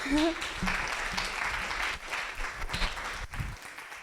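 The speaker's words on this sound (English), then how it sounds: "Everybody, please give us a clap for Stacy Johnson" Audience applause fills a talk venue, a dense steady clapping throughout, loud and close, fading slightly toward the end.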